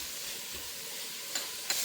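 Mint and coriander leaves frying with green chillies for Andhra-style chicken biryani give a steady close sizzle, with two brief scraping stirs near the end.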